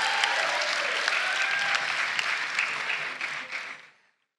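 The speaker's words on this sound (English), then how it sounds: "An applause again for Mr. Oscar." A graduation audience claps in a steady, full round of applause that fades out and stops after about four seconds.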